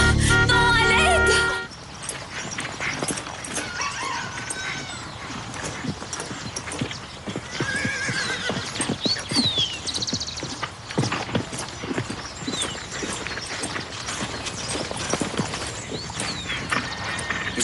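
Horse hooves clip-clop steadily on the ground, rapid overlapping beats at close range, with brief whinnies and shouting voices over the riding.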